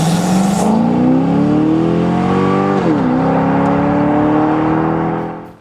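A sports car accelerates hard from a standstill to sixty, the engine note climbing steadily through the revs with a brief dip at a gear change before rising again, loud and close throughout.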